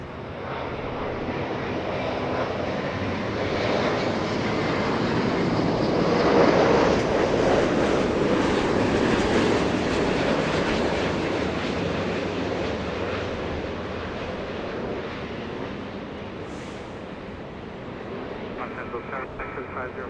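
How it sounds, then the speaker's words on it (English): China Airlines A350-900 jet landing at LAX: a broad, sustained engine roar that builds to a peak midway and slowly fades, with a commentator talking over it. "China Airlines flying in from Taiwan, a heavy A350-900"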